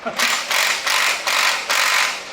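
A ratchet tightens a bolt on a Toyota Tacoma during a lift install, five rhythmic close clicking strokes in quick succession.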